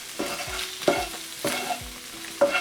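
Spiced potato samosa filling with ground cumin, fennel and coriander seeds is mixed in a pan over low flame, a soft sizzle broken by repeated scraping spoon strokes at a steady rhythm, close up.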